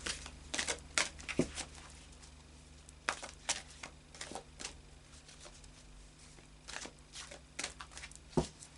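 Soft riffling and snapping of tarot cards being shuffled in bursts, close by, with quiet pauses between the flurries.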